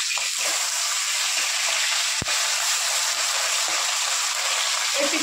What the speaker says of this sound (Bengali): মাছগুলো এক পিঠ ভালো মতো ভাজা ভাজা হয়ে গেছে